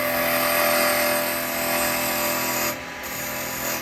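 Square carbide tool cutting a tenon into spinning yew wood on a lathe, a steady close whirring scrape that holds throughout and drops briefly in level near the end, with no talk.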